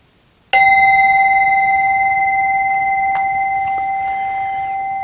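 A clear bell rings once with a sharp strike, then a long pure sustained tone slowly decays over several seconds against a quiet background.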